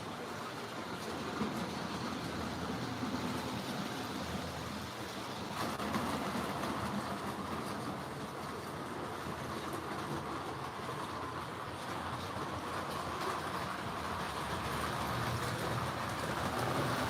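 A model train rolls along its track in a steady continuous rush with faint rhythmic clicking, heard alone and fairly close, with no talking.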